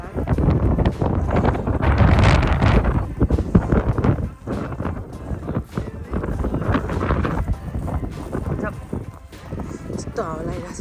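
Strong wind buffeting the microphone on the snowy summit of Ben Lomond in Tasmania, loud gusty roaring rising and falling beneath near continuous talking.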